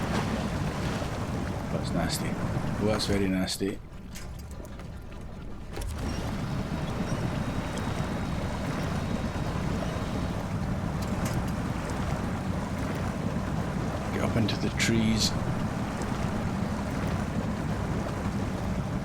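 A truck ploughs through deep flood water in Snowrunner's Yukon map, a steady rushing wash of water and engine noise throughout, with someone talking over it.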